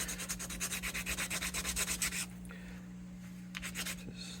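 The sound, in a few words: roughing up surface with old belt sander belt glued to ebony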